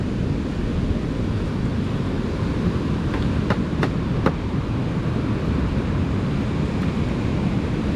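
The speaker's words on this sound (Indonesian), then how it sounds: "jadi disinilah pantai Lok Nga guys" Ocean surf and wind on Lhoknga beach in Aceh make a steady, broad roar, with a few brief faint clicks partway through.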